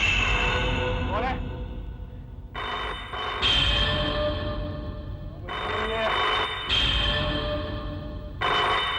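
A telephone rings in repeated bursts separated by short gaps, the bell loud and close, with a faint voice briefly heard under the start.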